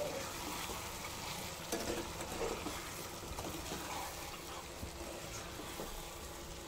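Potatoes frying in a pan for Bengali-style egg biryani, a soft continuous sizzle with scraping stir strokes, fairly quiet and steady throughout, with no voices.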